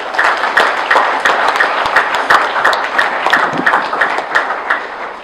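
Audience at a political congress applauding, loud close clapping that falls into a rhythmic, pulsing unison beat, sustained throughout without speech.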